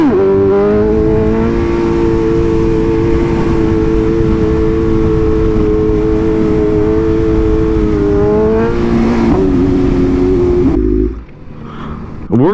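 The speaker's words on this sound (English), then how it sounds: "the traffic is so bad between the 5 and 7 o'clock range because everybody's getting off of work" Steady loud drone of rush-hour road traffic, engines humming continuously as cars pass close by, with a brief shift near the end as the noise drops and changes.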